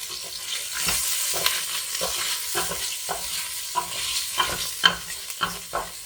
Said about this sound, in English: Just gonna get a wooden spoon and just give these a little move around.